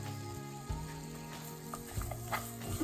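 Chopped onions and roughly chopped tomatoes sizzle and fry in a pan for a chickpea curry, a steady frying hiss with a few stirring clanks and soft bumps, close and fairly quiet.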